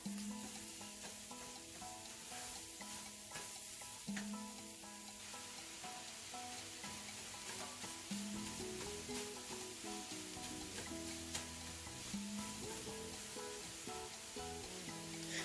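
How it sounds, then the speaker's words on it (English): A wooden spoon scrapes and breaks up chicken patty filling in a sizzling pan, steady frying hiss under repeated stirring strokes, close and continuous with no talking. "I'm gonna go in with a wooden spoon because this metal spoon wasn't working"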